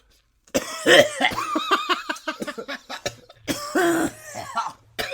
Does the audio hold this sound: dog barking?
no